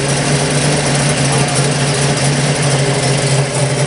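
A 1951 early Hemi V8 in a special car with Italian Vignali coachwork idles nearby with a steady, continuous low rumble and no break in level.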